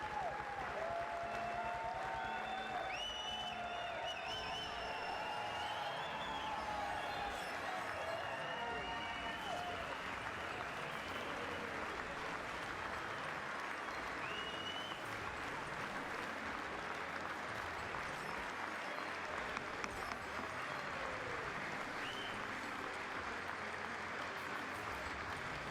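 Sustained applause and cheering from members of the US Congress greeting Benjamin Netanyahu, a dense, steady wash of clapping from a large crowd that continues throughout with scattered voices mixed in.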